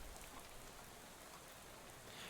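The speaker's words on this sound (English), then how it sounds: "soon you're dozing off to the sound of rain splattering on the window beside you" Rain splatters against a bus window in the game Shadow over Loathing, a soft, dense, continuous hiss with no breaks and no voices.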